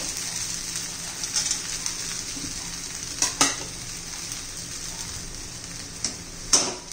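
Tomato poha with fried peanuts being stirred in a pan, a soft steady sizzle and scraping with a few sharper spoon knocks against the pan, close and on its own with no voices.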